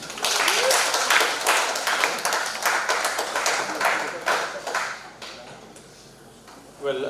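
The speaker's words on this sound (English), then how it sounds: "Give a round of applause." An audience claps for a panelist being introduced at an academic panel event: a dense, steady patter of many hands that continues for several seconds, then thins out and fades near the end.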